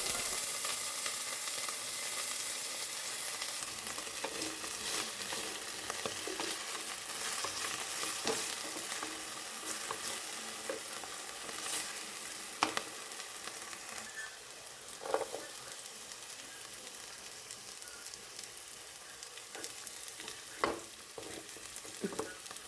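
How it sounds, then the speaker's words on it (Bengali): Vegetables stir-fry over low heat in a nonstick wok, tossed with a wooden spatula while cooking chow mein. A soft, steady sizzle runs throughout, with occasional scraping knocks and no voices. "তো চলো এবার আমি কম স্টিমে সবজিগুলো ভেজে নেবো"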